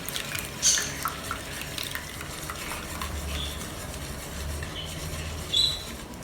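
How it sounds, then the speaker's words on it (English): Soy milk swishes and scrapes softly as it is poured and stirred in a bowl, a steady wet churning with a couple of brief clinks. "stirring while you pour the soya milk in"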